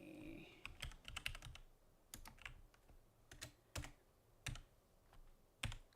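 Typing on a computer keyboard while entering names in embroidery design software, with quiet, irregular clusters of key clicks coming up close and clear, with no talking.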